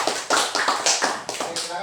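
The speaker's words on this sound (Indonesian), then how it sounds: "tepuk tangan dulu" A class of students claps in short, patterned bursts in a classroom, a brisk rhythmic round of hand claps that fills the room.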